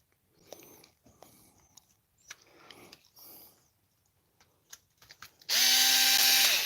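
A wrench or power tool working on a HoBao Hyper MT Sport RC truck, a loud steady whirring burst that starts abruptly near the end after quieter clicks and handling noises.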